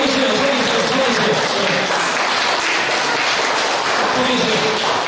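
A church congregation at a police Christian mission joint worship service claps steadily, a continuous, fairly loud wash of applause with voices mixed in beneath it.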